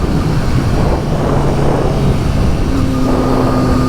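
A Triumph Street Triple 765RS motorcycle fitted with a RapidBike Evo module accelerates on the road, its engine a rough, steady roar buried in heavy wind rush, with a rising tone emerging toward the end.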